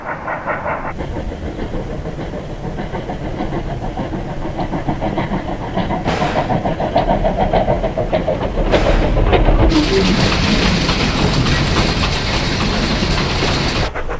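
A steam-hauled mixed train with a wagon of explosives runs toward Pukemiro, New Zealand, with steady rumbling and clanking wheels close by, growing louder and harsher partway through.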